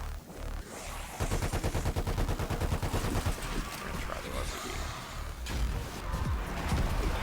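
Automatic gunfire from the video game Black Ops Cold War, on the zombies map Mauer der Toten, rattles in a rapid, even burst for several seconds, then breaks into shorter shots mixed with other game noise.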